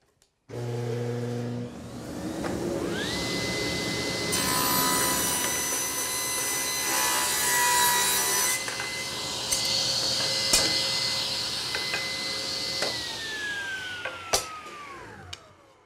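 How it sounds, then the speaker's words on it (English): Table saw cutting thin wood strips, a steady loud whine as the blade spins up, bites through the workpiece for several seconds with rising grinding tones, then spins down near the end. "a easy, cheap, and most importantly safe way to cut a whole bunch of thin strips on your table saw"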